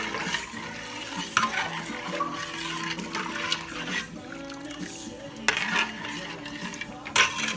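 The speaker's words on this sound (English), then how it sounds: "Give it a big stir." A spoon stirs chicken bouillon broth in a pot, water swirling and sloshing, with light clinks against the metal and a continuous low kitchen background.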